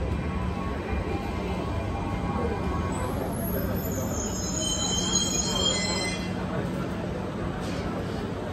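A train arriving at Athens station, with a steady heavy rumble of rolling wheels and a rising metallic squeal of wheels on rails through the middle, loud and close throughout.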